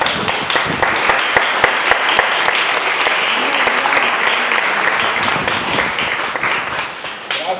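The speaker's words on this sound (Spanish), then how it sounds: "Ante todo, un aplauso a nuestro hermano Dagoberto." Audience applause at a community gathering in San Lorenzo de Los Mina, a dense, steady burst of many hands clapping that fills the whole stretch at close range, with faint voices underneath.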